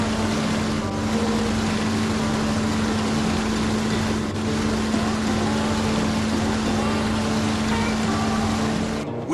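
A small Forest Service boat's motor drones steadily with a constant low hum and a wash of water and wind noise throughout, loud and close.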